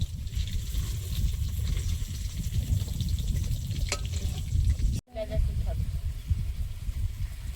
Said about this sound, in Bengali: শোল মাছটা ভেজে নিয়েছি তুলে নেব